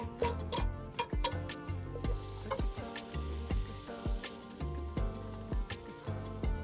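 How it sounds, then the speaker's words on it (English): Cinnamon, curry powder, chili powder and salt dropped into hot oil for a Sri Lankan black pork curry, frying with a steady close sizzle punctuated by repeated sharp clinks and taps of a utensil against the pan. "Heat up your oil, drop in the cinnamon, curry powder, chili powder, and salt."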